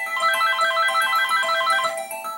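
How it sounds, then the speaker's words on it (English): A video-game telephone rings with a bright, warbling electronic trill that repeats in steady bursts, fairly loud and close, with no talking over it. "We will do that after I answer this phone call"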